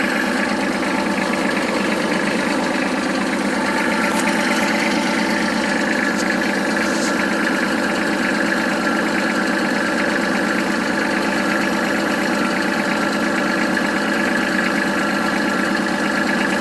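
A Kubota L3200 tractor engine idles steadily while warming up, a loud, continuous mechanical drone with a slightly rough knock that holds throughout with no talk.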